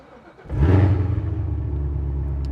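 A 2017 Chevrolet Corvette Z06 engine starts up loud and close, settling into a deep, steady rumbling idle that carries on alone without any talk.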